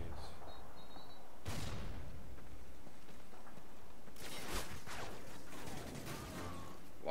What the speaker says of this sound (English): Why is he throwing them grenades?